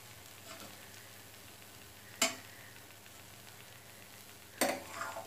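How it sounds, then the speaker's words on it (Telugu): A wheat flour instant dosa with oil on it sizzles on a pan over a medium flame: a soft, steady, quiet frying hiss broken twice by sharp clinks, with no talking. "ఇప్పుడు ఈ దోశ మీద కొంచెం ఆయిల్ వేసుకోండి. ఒక 2 నిమిషాల పాటు ఇది అలాగే కాలనివ్వండి."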